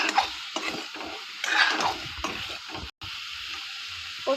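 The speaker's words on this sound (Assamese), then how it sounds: "তাৰপিছত জিৰা গুড়ি দিছোঁ, হালধি গুড়ি দিছোঁ, ভালকৈ লৰাই দিছোঁ।" Cumin and turmeric powder stirred in a frying pan with hot oil, a soft scraping and gentle sizzle with uneven spoon strokes, close by and fairly quiet.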